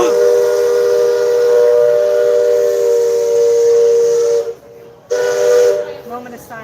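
Steam train whistle blowing at Magic Kingdom along the Rivers of America, a loud sustained multi-tone blast lasting several seconds, briefly cut off and then sounding again.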